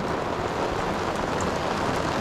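Heavy rain pours steadily on a caravan roof during a thunderstorm in Great Britain, a dense continuous hiss of drops close by with no distinct thunderclap.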